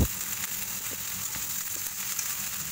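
Steady, dense sizzling of fried rice with shredded cabbage in a hot pan, close and continuous, with faint scraping touches and no voices.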